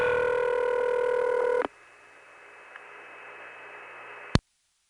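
Multifrequency (MF) signaling tones on an N3 long-distance telephone trunk: a loud steady multi-tone burst cuts off abruptly into faint line hiss, followed by a sharp click; recorded hot and with no voices.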